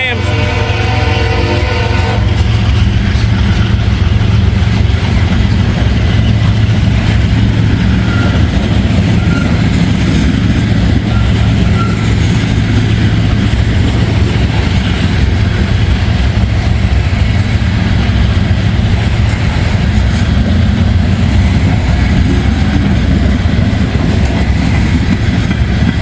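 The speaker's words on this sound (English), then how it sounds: "Big old heavy grain train." A heavy grain train rumbles past on the tracks, a loud, continuous close roll of railcars with rhythmic wheel clatter throughout, steady and unbroken.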